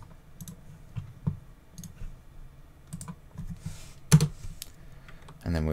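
Computer keyboard and mouse in use while setting up eksctl for Amazon EKS, soft scattered key taps and a few clicks at an uneven pace, close and fairly quiet, ending in a brief louder burst.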